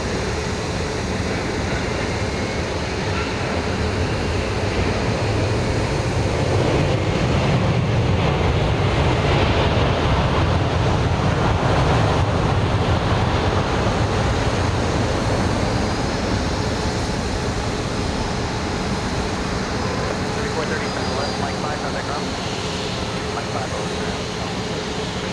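Boeing 737-800 airliner arriving from LaGuardia at Dallas Love Field, a continuous loud jet roar blended with wind buffeting the microphone, steady and sustained from start to finish.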